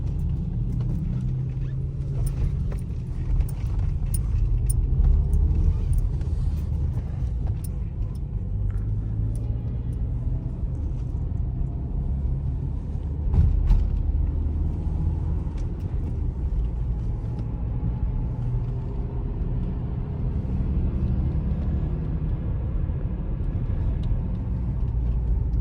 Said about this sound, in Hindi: मैं पहुंच चुका हूं और मैं गाड़ी पार्क कर रहा हूं यहाँ पे।